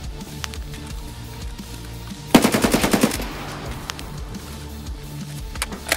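A rapid burst of automatic gunfire rattles out close and loud in the video game Escape from Tarkov, about eight quick shots in a second, with a few fainter isolated shots before and after.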